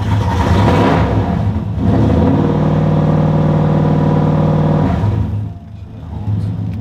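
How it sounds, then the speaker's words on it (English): A Toyota 1UZ V8 swapped into a Nissan S14 drift car revs loudly at close range, settles into a steady, even idle held for a few seconds, then drops away before picking up again. "Just the idle, just if you just touch the throttle, that should hold steady."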